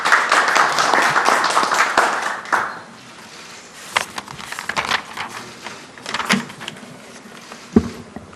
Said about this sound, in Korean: 모두 뜨거운 박수로 맞이해 주시기 바랍니다.